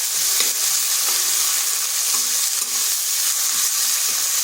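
Long-sliced onions fry with whole cumin in a pan until reddish, giving a constant bright sizzle with faint intermittent stirring taps, close and steady, with no talking.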